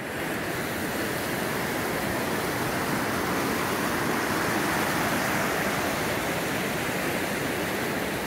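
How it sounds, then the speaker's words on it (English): The Nantahala River rushing past the outdoor center after rain, a steady broadband whoosh of flowing water, constant and close with no voices. "If you hadn't guessed, that's the Nantahala River."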